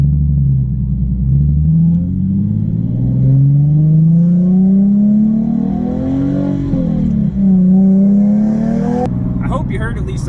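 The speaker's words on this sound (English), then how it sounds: "Oh yeah, I love the automatic downshifts on this sport model. Perfect downshifts every time," A Nissan 370Z sport model with automatic transmission and a GReddy Evo GT exhaust drones and rises through steady revs, then drops as it downshifts, heard loud from inside the car for about ten seconds.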